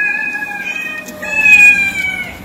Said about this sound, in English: He don't care about the cat.